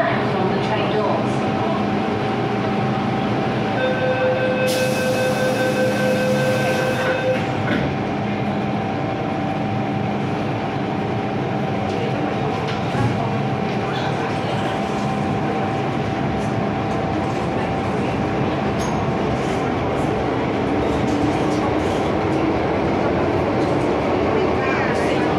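Hong Kong MTR Island Line M-Train running toward Chai Wan, a steady loud rumble of the moving train throughout with a brief high tone near the start, while a recorded announcement plays over it.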